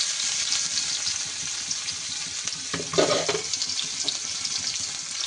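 Sliced onions hit hot oil already holding whole garam masala, panch phoron and dried red chillies for a pointed gourd and prawn dish, giving a steady close hiss that swells briefly midway.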